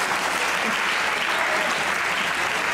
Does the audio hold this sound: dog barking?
no